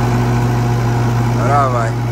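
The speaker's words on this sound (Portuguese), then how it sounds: "Rodar as facas na ensiladeira." A tractor-driven forage harvester runs with its knives spinning while chopping corn silage: a steady low engine hum with a constant mechanical drone, and a voice speaks briefly near the end.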